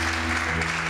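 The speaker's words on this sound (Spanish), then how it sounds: "Un aplauso fuerte a Papá Dios" Church congregation applauding in praise during a worship service, a dense steady wash of clapping for about a second with a sustained hum or organ tone underneath.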